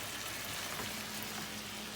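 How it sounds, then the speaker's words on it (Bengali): Shrimp frying in a pan during Bangladeshi home cooking for guests, giving a faint, steady sizzle that holds evenly throughout with no talk over it. "আর এখন আমি এই চিংড়ি বোনা করতেছি।"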